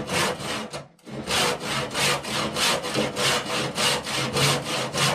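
A hand saw cutting an oak rafter with regular back-and-forth strokes, each a close rasping push, about a dozen in a steady rhythm after a brief pause near the start.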